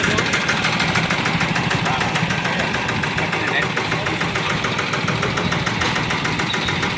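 A 10 hp Sanedo mini tractor engine runs steadily up close, with a dense, continuous mechanical chug and rapid knocking pulses that hold at an even level throughout.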